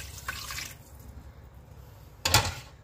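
Water splashes into a cooking pot for ramen in two short bursts, the second louder and brighter, with quiet kitchen background between.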